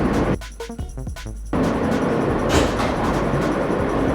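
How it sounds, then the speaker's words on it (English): An NYC subway F local train bound for Coney Island–Stillwell Avenue runs with a loud, steady rumble and rattle that swells after a quieter opening stretch. "This is the Coney Island, Stillwell Avenue bound F local train."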